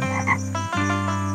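A frog croaks in a steady, loud, close drone with a brief break partway through, heard alone without any talking.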